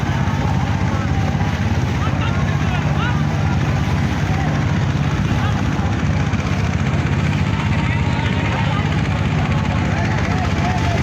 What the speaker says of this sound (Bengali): আর ড্রোন আছে পিছনে